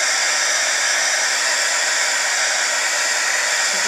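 A heat embossing tool warms embossing powder on a paper card, blowing a steady, loud, hissing rush of hot air that stays constant and close throughout with no talk.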